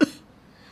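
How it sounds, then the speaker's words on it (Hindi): A single short, sharp cough right at the start, fairly close, followed by quiet room tone. "आपको बड़ी खांसी आ रही है।"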